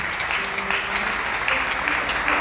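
A church congregation claps at a Sunday worship service. The applause is steady and fairly loud throughout, with a faint voice or tones faintly underneath.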